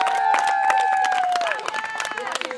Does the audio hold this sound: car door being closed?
no